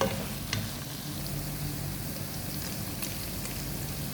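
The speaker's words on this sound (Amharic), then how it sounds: "የነጭ ሽንኩርቱ ሽታ እስኪወጣ ድረስ ትንሽ ከስጋው ጋር ጠበስ እናደርጋቸዋለን" Garlic fries with meat in a pan over lowered heat, a steady close sizzle with a few brief crackles and faint stirring noises, with no voices.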